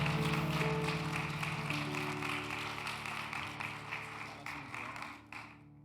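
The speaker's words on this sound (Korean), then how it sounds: "우리 다시 한번 뜨겁게 박수 부탁합니다." A church congregation claps warmly after a prayer, a dense wash of hands under sustained keyboard or organ chords, gradually thinning and fading toward the end.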